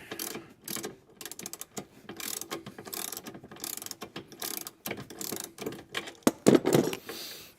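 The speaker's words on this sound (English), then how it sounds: "So we're using the 1/2-inch ratchet and" A 1/2-inch ratchet wrench turns bolts in a build with bursts of close, rapid pawl clicking, separated by brief pauses and clunks.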